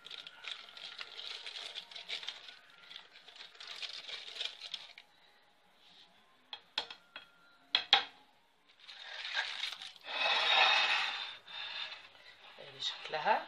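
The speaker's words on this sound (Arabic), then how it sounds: "نبدأ بقى نحطها في طبق التقديم" A chocolate basbousa tart with grated chocolate is moved onto a serving plate in a home kitchen, bringing scraping and rubbing, sharp clinks of utensils on the dish, and a brief rasping rustle, all close and with no talk.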